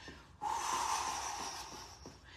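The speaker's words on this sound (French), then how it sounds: "On inspire par le nez." A slow, audible inhale through the nose during a morning breathing exercise, a soft airy rush that swells after a brief lull and holds for about two seconds, close and unaccompanied by speech.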